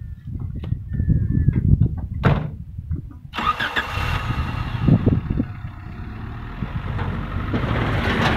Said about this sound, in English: Now I'll jump in the car and pull forwards